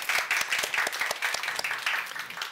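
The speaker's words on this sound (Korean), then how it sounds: "우리 박수로 한번 와주십시오." An audience at a company's New Year worship service claps to welcome new employees, dense, steady applause from many hands.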